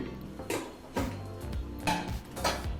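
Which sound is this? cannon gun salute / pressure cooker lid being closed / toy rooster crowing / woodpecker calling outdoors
pressure cooker lid being closed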